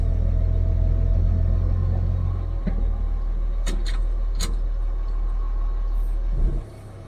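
A 1959 Chevy Apache pickup truck running and driving, its engine holding a steady low rumble up close for several seconds with a couple of sharp clanks before the sound cuts off near the end.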